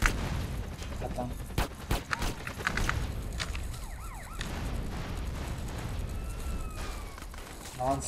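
Rapid bursts of gunfire in the video game GTA San Andreas crackle amid a busy, noisy mix, with a faint wailing siren passing in the background.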